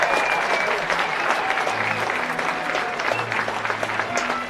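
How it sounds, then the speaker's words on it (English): Crowd applauding after a college baseball win, the Umpqua RiverHawks beating Olympic College, steady clapping and cheering in an open ballpark throughout, with faint voices beneath. "Big round of applause"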